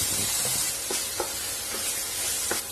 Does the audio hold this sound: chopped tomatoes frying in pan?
yes